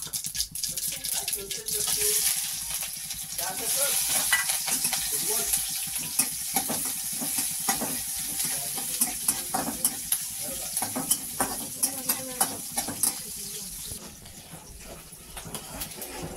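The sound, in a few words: mustard and cumin seeds sizzling in hot oil, stirred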